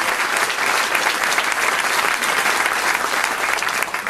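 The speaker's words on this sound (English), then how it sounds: "You should give yourselves a round of applause." A large audience at a conservative political rally applauds loudly and steadily, dense clapping filling the whole stretch without a break.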